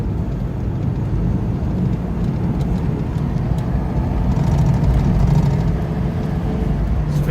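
Steady engine drone from a 2003 Ford Explorer pulling in third gear on a test drive, a continuous low rumble with road and wind noise heard from inside the cabin, with no voices.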